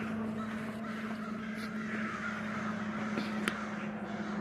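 Crows cawing outdoors in a park in Calgary, a few harsh calls over a steady background hum of the surroundings.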